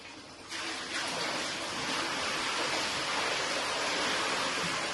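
Water pours and splashes steadily into a small home pool, a broad rushing wash that starts softer and swells to a loud, constant flow after about half a second.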